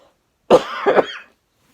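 A single harsh, throaty cough from seasonal bronchitis, broken into two or three bursts, loud and close, then silence.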